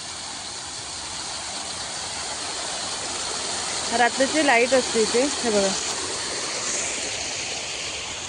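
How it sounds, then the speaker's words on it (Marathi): A small artificial waterfall in a park pours steadily, a continuous broadband rush of falling water throughout, with a voice speaking briefly over it midway. "समोर बघा हा छोटासा मिनी धबधबा आहे"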